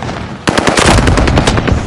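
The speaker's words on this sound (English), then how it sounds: "I'm taking fire" Rapid automatic gunfire in a military shooter video game, a loud burst of repeated shots starting abruptly after a quiet moment and continuing close and dense to the end.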